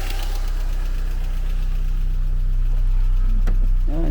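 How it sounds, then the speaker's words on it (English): A Saab 93 engine idles steadily with a low rumble and a fast, persistent ticking running through it, close and fairly loud. "Now it's ticking quite bad."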